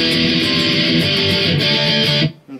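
Electric guitar chugs fast, heavy distorted power chords from a song's intro, loud and close with a dense, buzzy rhythm that stops abruptly after about two seconds, leaving a brief ringing tail.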